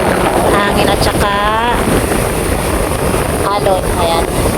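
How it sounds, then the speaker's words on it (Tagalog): Strong wind buffets the microphone at a seashore at low tide, a loud, constant roar throughout, with a voice speaking briefly beneath it. "Lakas ng hangin."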